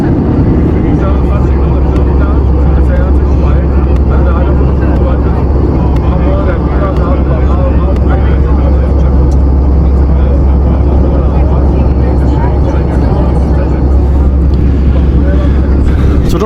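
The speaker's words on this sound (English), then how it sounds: "I'm trying to talk above, obviously, the volume of the plane" A steady, loud airplane cabin engine roar fills a flight to Tenerife, constant throughout, while a voice talks over it.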